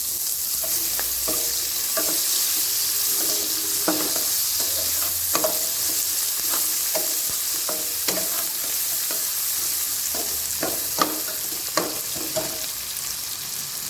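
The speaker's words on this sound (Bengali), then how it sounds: "গরম তেলে দিয়ে দিচ্ছি কুচিয়ে রাখা পেঁয়াজ পেঁয়াজটা খুব ভালো মতো করে ভেজে নিচ্ছি" Chopped onions fry in hot oil in a large wok, a steady broadband sizzle running throughout with repeated sharp clicks and scrapes of a spatula stirring against the metal.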